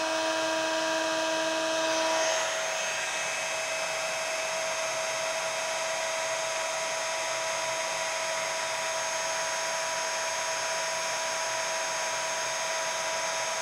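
Handheld heat tool blows steadily to melt thick embossing powder on an acrylic-painted art journal page, a close, even whirring hiss with a sustained whine that shifts slightly in pitch after a couple of seconds and carries on alone.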